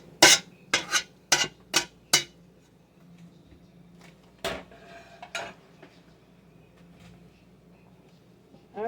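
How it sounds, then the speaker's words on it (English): Metal spoon scraping the last of a muscadine grape mash out of a pan: a burst of five sharp, close clinking scrapes, then two more a couple of seconds later over a quiet kitchen background. "Pardon me scraping on the pan, but I want to get the last little bit out of here."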